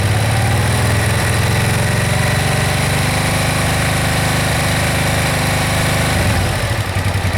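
Suzuki VX 800 motorcycle engine idling steadily during carburettor balancing, a loud close-up throb that holds even through a light throttle opening, then wavers slightly at the end.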